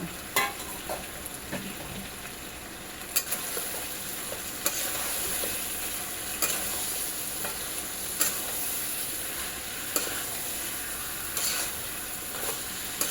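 Beef sautéing with ground spice paste of cardamom, cinnamon, cumin and black cumin, a steady sizzle with repeated sharp scrapes of a stirring spoon against the pan, close and alone without talk.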